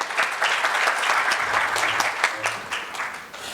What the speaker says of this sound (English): We can have a round of applause for him.